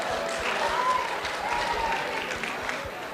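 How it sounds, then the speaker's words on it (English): Audience applause at a senate simulation session for the senator from Alabama, a steady, fairly close wash of clapping sustained throughout. "Round of applause for the senator from Alabama."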